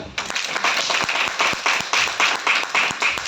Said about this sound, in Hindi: आप लोगों के लिए एक बार जोरदार तालियां